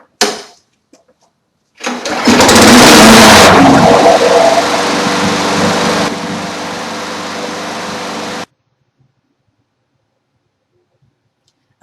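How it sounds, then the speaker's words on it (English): A lawn mower engine cranks, catches and roars into loud, steady running for several seconds after clicks, then cuts off abruptly, leaving silence. "The mower's running great"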